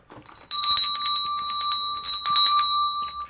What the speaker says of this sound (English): And then you have things like bells.